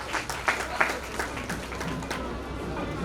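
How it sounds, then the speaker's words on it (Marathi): At a teachers' award ceremony, scattered, moderately loud clapping rises from the audience in uneven bursts over a few seconds. Some voices mix in with the applause. "एकदा जोरात टाळ्या झाल्या पाहिजे."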